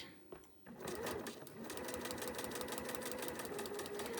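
Sewing machine stitching steadily through a foundation paper pieced quilt block, a continuous close whirring hum that starts after a brief quiet moment and runs on evenly at moderate level.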